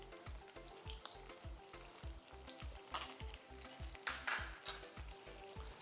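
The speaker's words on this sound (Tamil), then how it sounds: "இது கொஞ்சம் பொறுமையாக ரோஸ்ட் பண்ணணும், கொஞ்சம் மீடியம் ஒரு லோ ஃப்ளேமில் வச்சு ரோஸ்ட் பண்ணுங்கள்." Okra sizzles steadily in a pan over a medium-low flame, a close, faint frying crackle with a regular pulsing rhythm throughout.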